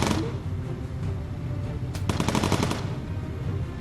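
Bomber gunners in the video game Bomber Crew firing machine guns at enemy fighters, a loud continuous rattle of rapid gunfire with a denser burst of shots midway, under steady engine drone.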